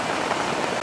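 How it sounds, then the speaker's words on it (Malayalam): Heavy rain falls steadily on surfaces near an outdoor cooking fire, a dense, even hiss of drops heard briefly with no voices. "കിടിലെ മഴയാണ് ഇത് കേട്ടാ."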